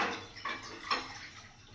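Water runs from a tap into a bowl set out for boiling eggs, a soft continuous splash with a few brighter bursts, fairly quiet and without talk.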